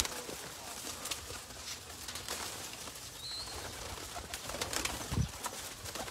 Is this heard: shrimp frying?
no